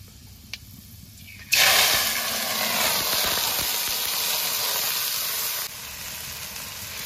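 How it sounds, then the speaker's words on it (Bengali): Washed rice and lentils poured into hot oil tempered with dried red chillies and panch phoron for khichuri. A sudden loud, close sizzle bursts out and holds steady, then eases slightly toward the end. "এবার ধুয়ে রাখা চাল ডালটা এর মধ্যে ঢেলে দেবো।"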